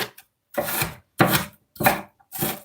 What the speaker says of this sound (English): So I'm just chopping these onions on my chopping board.